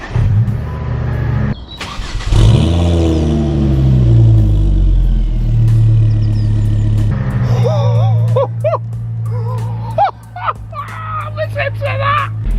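Ford Focus ST225 fitted with a Milltek exhaust cranks and fires into a loud, close rumble, then revs rise and fall through several blips, with people talking over the idle toward the end.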